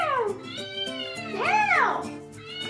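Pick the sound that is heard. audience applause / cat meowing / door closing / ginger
cat meowing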